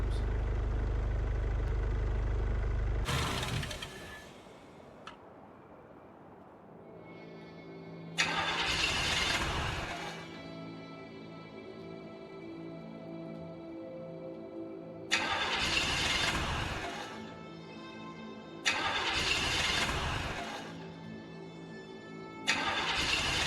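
Repeated failed attempts to start a car with a broken starter in the video game HumanitZ: several bursts of grinding, cranking noise separated by pauses, loud and close, with no talk.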